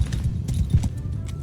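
Horse hooves clip-clop in quick, close steps during a battle in the video game Mount & Blade II Bannerlord, with faint ambient game noise beneath.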